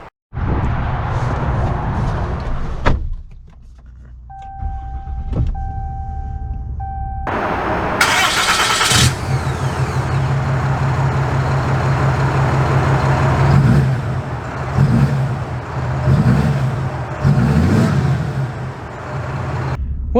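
A 2022 Ram 2500 Laramie diesel pickup fires up after a short pause, settles into a steady idle, then rumbles off with rising engine tones, loud and close with no talking.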